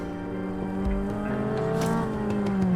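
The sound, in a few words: sports car engine revving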